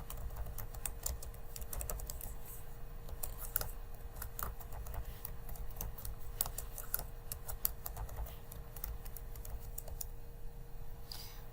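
Computer keyboard keys typed in a quick, irregular run of light clicks, entering a new root password on a Linux system over steady low background hum, with no talking.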